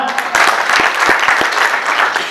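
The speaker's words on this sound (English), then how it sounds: "Clap for her." An indoor audience at a human resource professional examination board event claps for an examination administration officer, a loud, close burst of dense applause lasting a couple of seconds.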